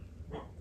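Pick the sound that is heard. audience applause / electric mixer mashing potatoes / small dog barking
small dog barking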